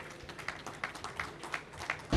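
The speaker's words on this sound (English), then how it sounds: "A round of applause" An audience at a stage event claps steadily, a moderate scattered applause heard from a distance, with a louder thump right at the end.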